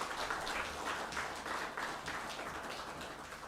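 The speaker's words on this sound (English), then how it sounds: "Let's give him a hand clap" Audience hand clapping at a regional health assembly in the Acholi sub-region follows a presentation, a faint, distant, blurred patter of many hands that fades slightly toward the end.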